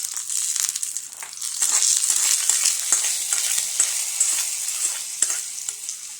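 Mustard seeds crackle and pop in hot oil as a tempering is poured over breadfruit masala curry. A loud, dense, continuous sizzle with rapid crackling fills the whole stretch.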